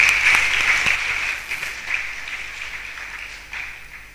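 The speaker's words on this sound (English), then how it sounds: "Parents, everybody give them a round of applause." An audience at a secondary school graduation ceremony claps in a dense burst of applause that gradually thins and fades, with a few scattered later claps.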